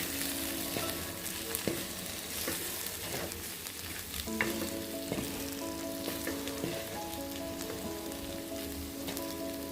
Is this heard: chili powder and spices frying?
yes